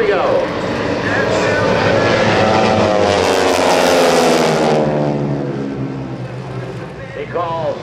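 Aerobatic team propeller planes roar past at an air force base airshow while flying a loop, their loud engine drone swelling and fading with Doppler shifts as a commentator talks over it.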